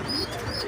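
Breeding pigeons in a loft give a brief, soft coo with faint chirps, heard close against a steady low background murmur.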